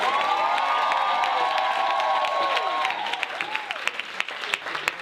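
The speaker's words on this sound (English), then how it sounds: "can we get a huge, huge, huge round of applause for Mr. Christoph Writes?" Audience at a poetry jam fundraiser applauds and cheers loudly, with whoops and shouts over the clapping, then the crowd noise fades into scattered, sparser claps.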